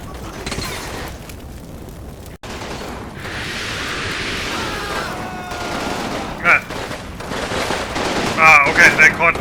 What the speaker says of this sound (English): there's still a machine gun there as well